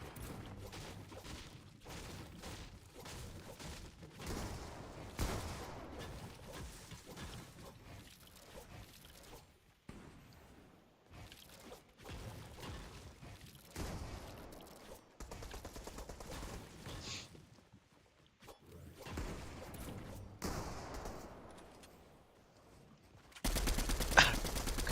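Bursts of gunfire from a shooting video game rattle on and off at low volume, with rapid automatic fire separated by brief lulls.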